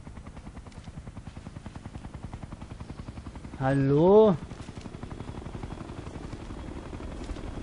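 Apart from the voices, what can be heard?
helicopter in video game Ghost Recon: Future Soldier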